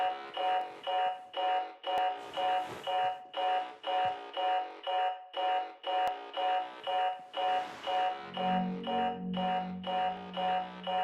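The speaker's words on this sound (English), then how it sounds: "Turning off the alarm." A bedside alarm clock rings in the horror video game MOLE, a near, loud electronic beeping in steady rapid bursts repeating throughout, joined near the end by a low sustained hum beneath it.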